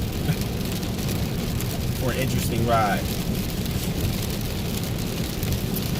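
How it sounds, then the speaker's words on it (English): Heavy rain heard from inside a car while driving, a steady wash of noise with low rumble, and someone talks briefly over it. "it's raining bad out here"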